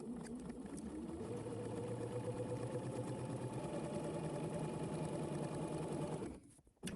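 A sewing machine runs in one steady, continuous stitching burst lasting several seconds, close and even in tone, then stops abruptly near the end; no talking.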